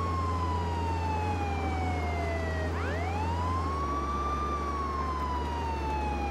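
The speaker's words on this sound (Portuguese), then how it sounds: "Zé, não ouves a sirene da polícia?" A police siren in the video game Contraband Police wails steadily, its tone sweeping up and down over a constant low engine drone, with no voices.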